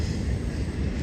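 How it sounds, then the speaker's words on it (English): A steady, loud low rumble fills the whole moment, the heavy continuous roar of a train passing close by with no break. "Can you hear us over the train?"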